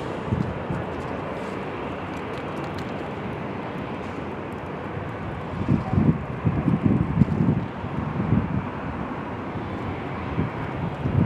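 An airliner takes off from runway 25 right at Los Angeles International Airport (LAX), a broad steady roar mixed with wind buffeting on the microphone that swells louder partway through.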